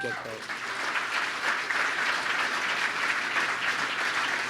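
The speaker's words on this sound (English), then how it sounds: "People in the audience are rich and applauding" A rally crowd applauds in a continuous, moderately distant wash of clapping, and a voice is briefly audible at the start.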